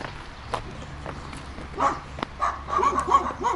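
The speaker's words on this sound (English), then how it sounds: "these dogs all over the place, of course" Several dogs bark and yip on a roadside in Malta at sunset, a mix of sharp barks and higher yelps that grow louder and denser toward the end, with road noise underneath.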